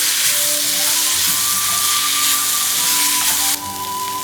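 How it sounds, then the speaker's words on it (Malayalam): Masala-coated mango pieces sauté in a pan for Angamaly mangamappas, giving a loud continuous sizzle and hiss that softens slightly near the end. "നമുക്കിതൊന്ന് ഈ മാങ്ങയെല്ലാം ഒന്ന് വഴറ്റിയെടുക്കാം ചെറുതായിട്ട്."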